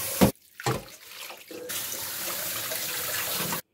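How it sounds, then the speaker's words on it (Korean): Soaked glass noodles are rinsed under a cold tap. Two brief splashes come first, then a steady close stream of running water lasts about two seconds before stopping abruptly. "그러면은 찬물에 한번 헹궈 주겠습니다."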